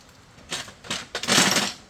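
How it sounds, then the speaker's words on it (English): A wrench ratcheting bolts tight on a 1960 Pontiac Bonneville, three short close bursts of clicking, the last one longest. "We'll get our wrench and we'll zip them up."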